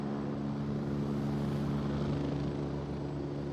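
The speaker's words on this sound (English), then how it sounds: "Helicopter!" A helicopter in a video game drones with a steady low rotor rumble, moderately loud and continuous, with no talk.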